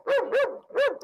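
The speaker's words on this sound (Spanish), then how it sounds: "perro santiagueño, ¿eh? Escuchá." A Santiago del Estero dog barks three times, close and loud, each bark a rounded, tonal woof in a steady rhythm with short gaps between.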